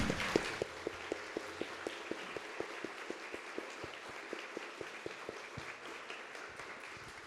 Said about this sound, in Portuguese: peço uma salva de palmas para Ailton Krenak